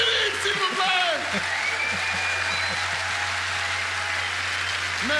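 Applause from a live theatre audience greeting the magician Philippe on stage, a steady wash of clapping that holds for several seconds with a low hum underneath and faint voices and whoops rising through it.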